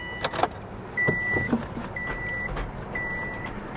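A Volkswagen Vanagon van's engine idles steadily in the background, with a recurring high electronic chime or warning tone sounding three times at regular intervals over the running motor.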